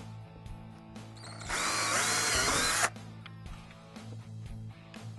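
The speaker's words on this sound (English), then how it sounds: "we're going to drill our pilot hole on the inside of our template line" A power drill whirs loudly for about a second and a half, boring a pilot hole in an E-Z-Go TXT golf cart body for a light kit, with quieter handling noises before and after.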